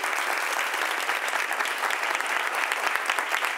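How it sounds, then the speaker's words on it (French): A studio audience at a television talk show applauds, a continuous, even wash of clapping heard close and alone without a break. "Applaudissements pour vous-même, cher public."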